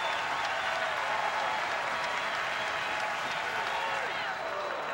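Crowd at a Rice vs LSU college baseball game applauding and cheering steadily, a dense sustained roar with commentary talking over it.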